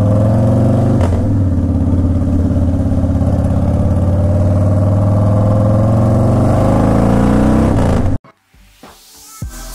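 A Harley Davidson Softail Standard motorcycle engine pulls hard and loud on a test drive, a steady deep rumble for about eight seconds with a slight rise under acceleration before it cuts off abruptly into near quiet.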